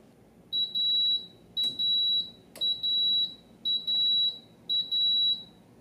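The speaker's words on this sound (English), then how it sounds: "Those are the beeps to indicate the rice is finished cooking." An Aroma 20-cup digital rice cooker signals finished rice with five short pairs of high electronic beeps in an even rhythm, clear and close, over a quiet background with a couple of faint knocks.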